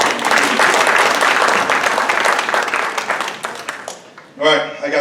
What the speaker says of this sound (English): I give these guys a big round of applause